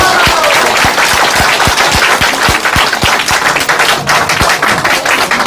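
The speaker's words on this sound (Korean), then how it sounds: "박수 한번 보내주십시오" An audience at a Korean political campaign event gives a burst of rhythmic clapping, sharp regular claps over a loud, dense crowd noise.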